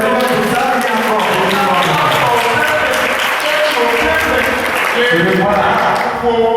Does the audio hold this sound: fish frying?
no